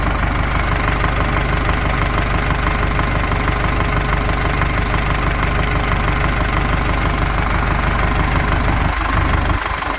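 A YuMZ-6 tractor engine turns over steadily on a newly fitted starter, a loud continuous mechanical churning and knocking drone that runs the whole time before cutting off abruptly near the end.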